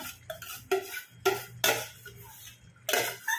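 A utensil scrapes and clacks against a pan of eggplant and tomato in irregular strokes, with a low sizzle underneath and short quiet gaps between stirs.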